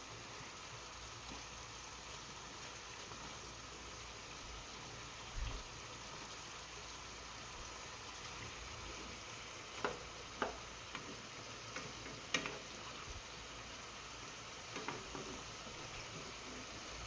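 A steady, close sizzle of pineapple pork chops frying in a pan, with a few sharp pops and crackles near the end. No one speaks.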